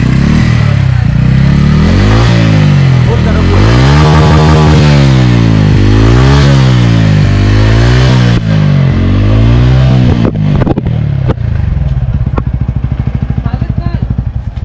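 A TVS Ronin 225 motorcycle in neutral is revved hard, its engine loud and close, swelling up and down in repeated throttle blips before dropping to a rough, clattering idle.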